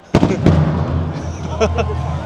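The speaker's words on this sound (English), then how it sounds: "There's fireworks over at the Helios." Fireworks going off at the Epic Universe theme park: two sharp booming bursts close together near the start, followed by a rumbling crowd with voices talking over the background.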